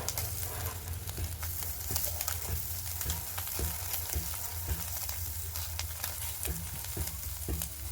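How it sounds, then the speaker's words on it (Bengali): Small pieces of magur catfish frying in a shallow layer of oil give a loud, continuous, close sizzle with regular spatter pops and occasional stirring clicks throughout, with no voices. "আর দেখুন আমি অল্প করেই ভাজছি বলে একটা মাছ কিন্তু ভেঙে যায়নি, সব গোটা গোটা রয়েছে।"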